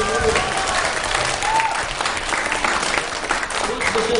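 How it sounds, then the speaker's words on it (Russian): Children in a concert audience clap their hands for a band on Victory Day, a loud, continuous, dense round of applause throughout, with faint tonal traces from the stage. "чем громче вы хлопаете в ладоши, мы лучше играем"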